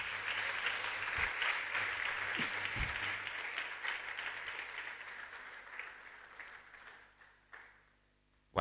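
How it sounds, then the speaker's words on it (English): Audience applause at a university event welcoming a speaker: steady, dense clapping from a crowd that slowly thins and fades over several seconds, ending in a few scattered claps and near quiet. "More resounding clap for Vice Chancellor."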